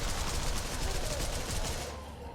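Gunfire in the video game Devil's Third: a rapid burst of automatic shots fired in quick succession that stops abruptly near the end, loud and close, with faint talking underneath.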